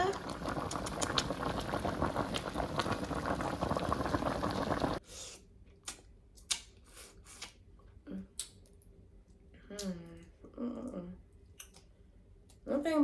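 A seafood boil with crab bubbles loudly in a pot for about five seconds, a dense rolling boil, then stops abruptly, leaving scattered clicks, handling knocks and a voice talking intermittently.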